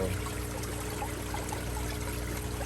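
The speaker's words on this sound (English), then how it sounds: "see my water's running down here" Water runs steadily through a backyard aquaponics grow setup, a close, continuous trickling stream with no breaks.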